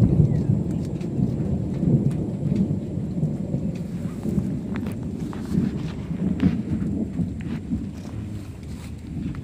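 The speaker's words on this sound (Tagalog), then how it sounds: "Lakas ang kulog" Loud thunder rolls and rumbles continuously through a heavy rainstorm, with steady rain pattering on surfaces and occasional sharper cracks over the deep roar.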